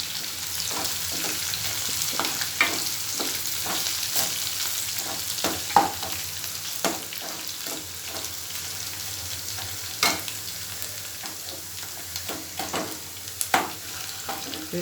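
Shallots, garlic and tempering spices crackle and sizzle in hot oil for tomato chutney, a steady close fry broken by sharp pops and occasional stirring clatter, with no voices.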